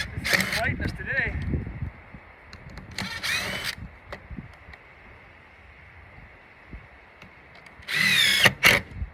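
Short bursts of an impact drill whirring as it drives a screw into wood, starting and stopping several times, with quieter pauses in between and a final louder burst.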